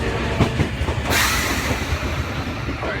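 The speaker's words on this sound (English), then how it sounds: "It's a long ass train." A long train rolls past close by with steady rumbling wheel noise and rail clatter, swelling louder after the first second and continuing without pause.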